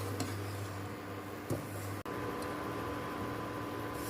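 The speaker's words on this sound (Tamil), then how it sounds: "இப்ப ரெண்டையும் சேர்த்து நல்லா கலந்து விட்டுறலாம்" Roasted vermicelli and semolina stirred together in a pan: a steady scraping and light metallic clinks of a spoon on the pan over a faint sizzle, close and quiet, with one sharp knock midway.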